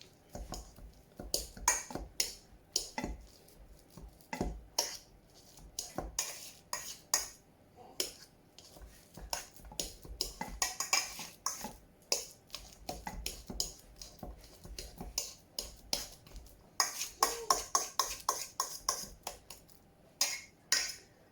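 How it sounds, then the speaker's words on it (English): A metal fork repeatedly clinks and scrapes against a bowl while mashing a ripe banana, producing close, irregular taps and squishy strokes in quick bursts, with no talking. "then take a fork and mash it down with the fork"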